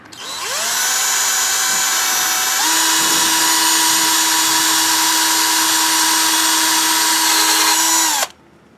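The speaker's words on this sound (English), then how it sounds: "I'll drill it right there." A power drill bores into old, very hard wood in a 1901 barn, whining loudly and steadily for about eight seconds, its pitch stepping up partway through before cutting off abruptly.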